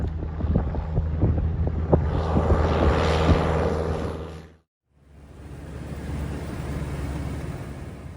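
A Piper J3 Cub flies away over the Puget Sound town of Anacortes, its propeller engine droning and gradually fading, then breaking off in a brief silence before a softer, wind-blown engine wash returns.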